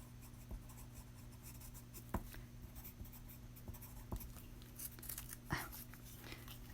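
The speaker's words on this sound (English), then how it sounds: "I probably need to write it down because I'll forget" A pen scratches a handwritten note onto paper at a cluttered desk, quiet and close, with soft irregular strokes and a few light taps over a low steady room hum.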